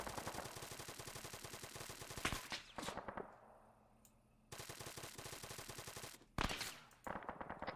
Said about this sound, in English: You guys shooting at the tower?